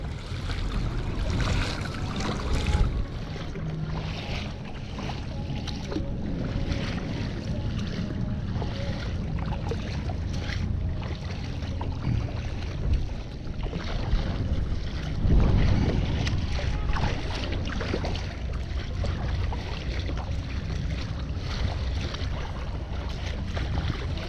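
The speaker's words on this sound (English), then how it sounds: "And the wind's behind me." Steady wind noise buffets a kayak on open water near Watsons Bay, a continuous broadband rush with water lapping and a brief louder gust midway, no voices.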